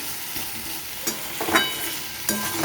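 Pieces of taro and pumpkin fry in a pan with a soft continuous sizzle, broken by a few louder scraping stirs of a spoon.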